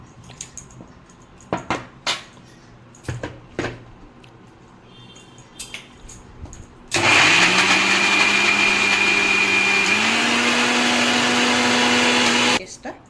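A kitchen blender grinds paste with a little water for malai kulfi, starting after scattered clinks and handling noises and running as a loud steady whine for about six seconds before cutting off. A voice speaks briefly.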